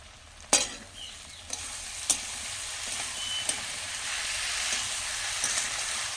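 A paste of ground mustard, green chilies and peanuts frying in hot oil, a steady close sizzle with a few sharp clinks of a spoon stirring against the pan.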